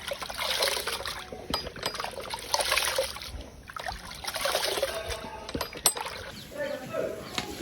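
Water splashes and trickles steadily as cooking vessels are rinsed outdoors during preparation of a communal charity meal, with intermittent clatter of metal pots and a faint drip-like rhythm throughout.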